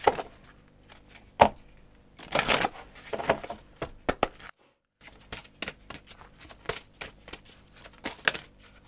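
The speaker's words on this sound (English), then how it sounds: "Oh, that was a really, really bad shuffle." Tarot cards being shuffled by hand, a series of quick riffling and slapping bursts with short pauses between, close and fairly quiet, no talking.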